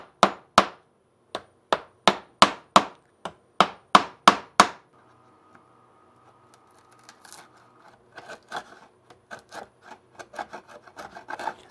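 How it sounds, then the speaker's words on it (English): Hand chiseling wood, about a dozen sharp, evenly spaced strikes up close, followed by quieter scraping and irregular taps. "You're normally supposed to sneak up on a line when you're chiseling."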